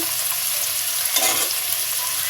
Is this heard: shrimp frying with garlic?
yes